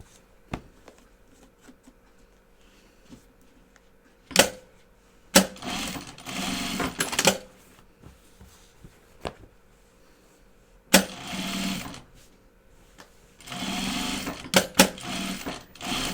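A sewing machine stitching a fabric project bag runs in three separate bursts of rapid mechanical whirring, with quiet pauses and small clicks and handling noises between them.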